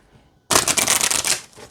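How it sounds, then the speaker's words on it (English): A deck of oracle cards riffles in a bright, crisp continuous shuffle that starts abruptly after a quiet pause and runs loud for over a second. "it shuffles great this way too"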